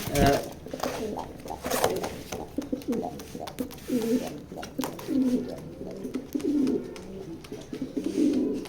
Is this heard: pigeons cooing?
yes